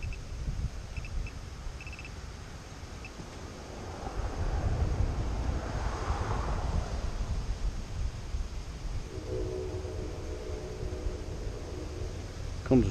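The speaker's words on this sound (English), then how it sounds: "The wind is strong." Steady wind roars and buffets the microphone outdoors by a creek in Castleton-on-Hudson, a continuous broad rush that swells in the middle, with a faint engine hum near the end.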